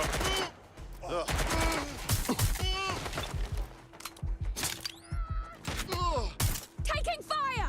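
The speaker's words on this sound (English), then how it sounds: "Taking fire!" Rapid bursts of gunfire crack through a Watch Dogs: Legion firefight in repeated volleys, close and loud, with voices shouting between the shots.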